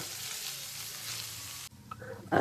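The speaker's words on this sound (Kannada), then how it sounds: "ಸೊ ಇಷ್ಟು ಫ್ರೈ ಮಾಡ್ಕೊಳ್ಳಿ ಸಾಕು" Paneer cubes frying in a pan give a steady, close sizzle for most of the clip, then drop to quieter crackling with a few clinks of stirring near the end.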